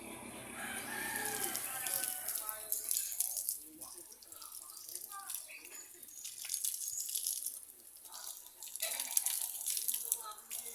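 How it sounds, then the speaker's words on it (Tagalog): Water from a tap runs and splashes as lemongrass is washed in a rural Philippine setting, irregular bright splashing and dripping under a man's speech, with a rooster crowing in the background. "Hugasan na rin natin dito sa gripo."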